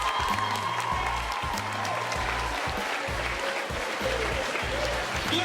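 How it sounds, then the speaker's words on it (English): An audience gives a round of applause at a school live-stream event, steady clapping under a pulsing low music beat, with a voice faintly audible. "Give that a big round of applause"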